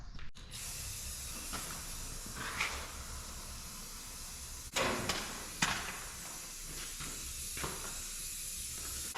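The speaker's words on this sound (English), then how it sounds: "Now it's time to take the clear lacquer and spray them all off" Clear lacquer sprayed from a can over carved wooden bears, a steady soft hiss running throughout with a few short louder sputters and clicks.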